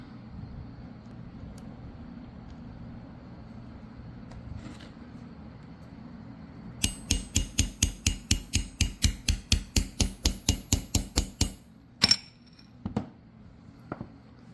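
Thin copper rivets being hammered into leather armor for DIY leg pieces: a fast, steady run of about fifteen sharp metallic taps, close and loud, followed by a few scattered strikes after a quiet stretch.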